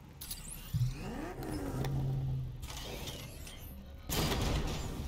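A car engine in the Batman: Arkham Knight video game rises and falls in revs, with whooshing game effects and a loud surge near the end, heard without talk.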